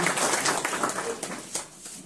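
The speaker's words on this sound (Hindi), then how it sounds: "उनका हम जोरदार ताली से हार्दिक स्वागत करते हैं" Audience applause greets a guest at a gathering, a short burst of scattered clapping that fades over about two seconds.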